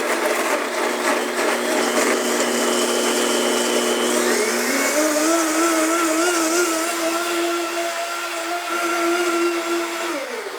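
A Vitamix or Blendtec blender running at high speed, a loud steady motor whine that shifts pitch partway through as the contents churn, then drops near the end.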